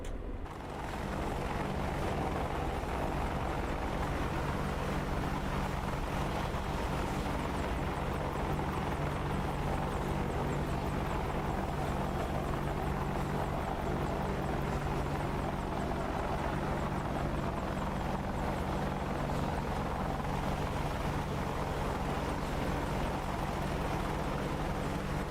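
A steady, loud rotor drone of an Apache attack helicopter flying high over mountainous Afghan terrain in the DCS flight simulator, droning continuously for the whole stretch with no speech.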